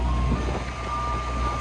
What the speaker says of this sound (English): Big ice cream truck.